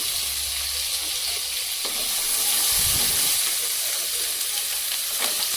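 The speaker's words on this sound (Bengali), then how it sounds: "সর্ষা ফোড়নের মধ্যে আলু দিচ্ছি" Potatoes sizzle as they drop into a mustard-seed tempering in hot oil, a loud bright frying hiss that swells mid-way with a brief low thump, continuing steadily without talk.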